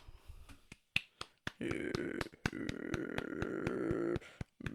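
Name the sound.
hand clapping along to music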